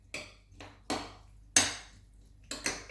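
A spoon works through seasoned burrito filling in a pan, giving five or so sharp, close clacks against the pan with quiet gaps between them.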